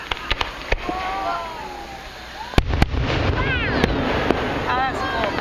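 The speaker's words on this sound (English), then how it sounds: "Fireworks." Independence Day fireworks display in Stroudsburg, Pennsylvania, 2012, giving a run of sharp, separate bangs at irregular intervals, some louder and closer, with whistling trails and a crowd murmuring throughout.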